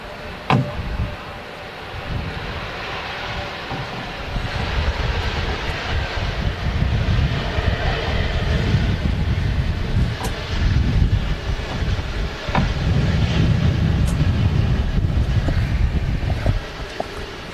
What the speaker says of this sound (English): There she goes, just overshooting the exit there. Turkish Airlines A330.